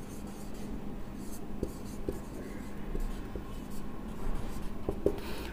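Chalk or marker scratching across a board during a chemistry lecture, a few short sparse strokes and taps over a quiet room hum, close but soft, with no clear speech.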